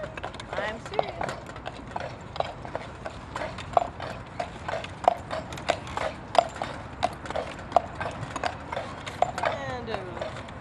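Carriage horse hooves making a left turn on a city street in Ogden or Salt Lake, a steady, close run of clip-clops with a faint metallic creak from the carriage, while people talk over it.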